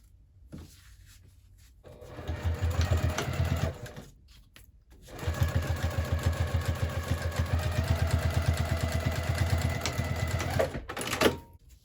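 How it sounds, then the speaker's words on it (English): A sewing machine stitches handbag side pieces at a half-inch seam, two close bursts of steady rapid stitching, the first short and the second longer, separated by a pause with light handling sounds. "we'll go ahead and sew that at a 1/2 inch seam allowance"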